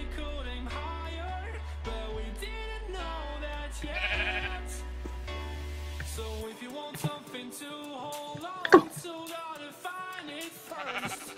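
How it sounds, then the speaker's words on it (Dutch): Several Minecraft sheep bleat in quick, wavering calls over the game's soft background music, some near and some farther off, during survival play with boats. "Schaap."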